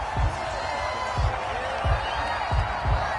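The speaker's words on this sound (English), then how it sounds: "This home crowd, they're happy with that call." Home crowd noise in a PS4 sports video game, a steady roar of cheering and murmur held under the whole stretch, with several soft low thumps recurring at regular intervals.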